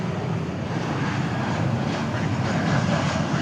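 A Wheels Up jet arriving from Jackson, Wyoming at DFW airport makes a steady, broad engine roar that holds at even loudness throughout, with no voices over it.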